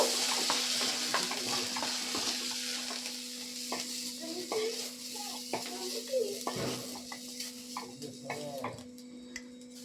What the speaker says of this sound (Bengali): এই নুন হলুদ দিয়ে ভালো করে চিংড়ি মাছটাকে আমি ভেজে নেব